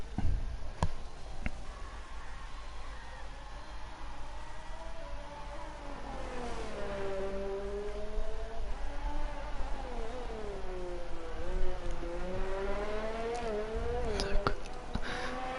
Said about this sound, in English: Listen to the beautiful Honda engine.